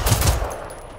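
A short burst of loud gunfire in the video game Generation Zero, a few rapid booming shots close up that fade out, with no talk.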